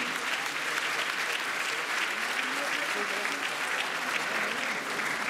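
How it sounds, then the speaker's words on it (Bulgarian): Sustained audience applause at a black-and-white Christmas awards event, honoring prize winners; dense steady clapping throughout, fairly loud, with a murmur of voices under it. "Ами да сега вашите аплодисменти."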